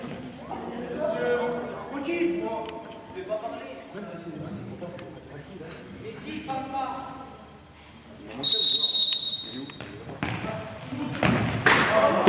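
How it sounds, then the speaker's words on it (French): A referee's whistle blows sharply, starting play in an under-15 futsal cup semi-final in Var, a clear high tone of about a second rising above steady commentary and the thumps of the ball on an indoor court. "c'est parti au coup de sifflet"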